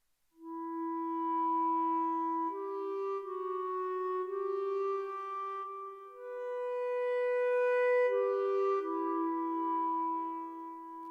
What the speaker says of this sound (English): So it's just the VSL Woodwinds combi